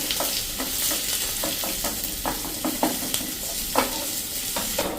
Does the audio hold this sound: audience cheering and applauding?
no